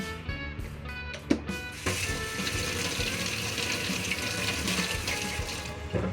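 Fish is washed under a running kitchen tap, with a steady close splash of water and brief clunks of handling in the sink.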